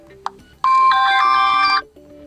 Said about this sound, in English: The same for the default notification ringtone.